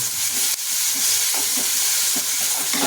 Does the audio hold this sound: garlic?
yes